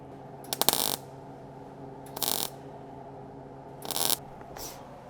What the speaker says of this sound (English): So I'm going to keep welding up.